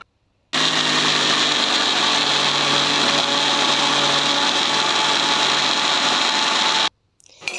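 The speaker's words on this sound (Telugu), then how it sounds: "ఇలా మిక్సీ ఇవ్వండి." A mixer grinder blends tomatoes with soaked tamarind in a loud, steady high-pitched whir that runs for about six seconds, then cuts off abruptly.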